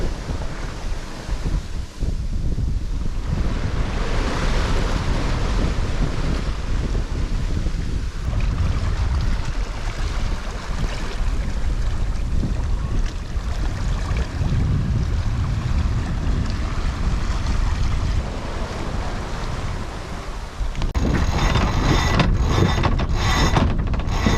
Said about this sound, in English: the swells have picked up 3-4 feet instead of the 1s or 2s, and we're actually sailing now